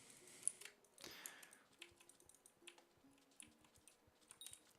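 Quick bursts of clicky keystrokes on a computer keyboard during a Hypixel SkyBlock gaming session, close and quiet, irregular taps with a louder flurry near the start.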